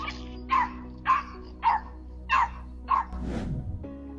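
A dog defending its owner from a coyote, barking five times in a sharp, evenly spaced series at close range, followed by a short burst of rustling noise.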